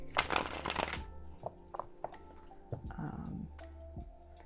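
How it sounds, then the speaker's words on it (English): Cards are riffled in a quick shuffle at close range, followed by soft taps and clicks as the deck is squared up. "I've shuffled this deck so much"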